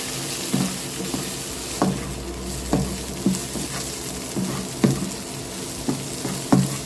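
Vegetables for capcay, starting with broccoli, stir-fried in a hot wok: a constant sizzle punctuated by regular scraping and clinking strokes of the spatula, close and clear.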